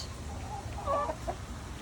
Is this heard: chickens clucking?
yes